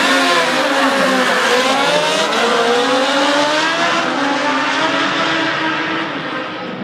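A nitrous-oxide-injected 360 cubic inch ice cream truck tears down the Irwindale drag strip on a Thursday night, its engine roaring loud and steady with rising pitch before fading slightly at the end.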